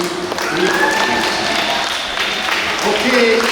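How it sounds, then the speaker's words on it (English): Steady applause from a crowd at a World Tuna Day 2021 performance event, continuous clapping throughout with some voices mixed in. "Let's give them another round of applause."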